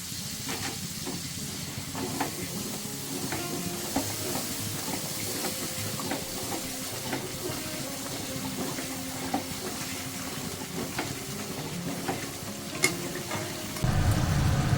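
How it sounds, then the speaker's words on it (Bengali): Spice masala sautés in oil in a pan, giving a steady close sizzle and hiss throughout with light stirring scrapes scattered across it. Near the end it swells briefly into a louder burst of frying, and no one speaks. "যতক্ষণ অব্দি তেল মাছ ছাড়বে ততক্ষণ অব্দি এরকম কষিয়ে যাবো আমি মশলাটা দিচ্ছি"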